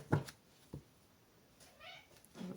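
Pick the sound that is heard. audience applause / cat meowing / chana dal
cat meowing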